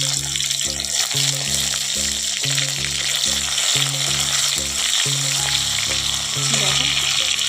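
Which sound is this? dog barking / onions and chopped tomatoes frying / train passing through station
onions and chopped tomatoes frying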